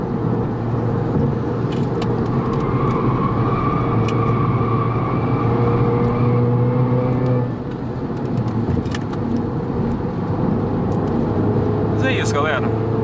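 A 2016 Audi TT engine revs under load with a steady, loud low rumble and rising harmonic tones through the first half, then settles back as the car keeps running close by; speech is detected faintly in the mix.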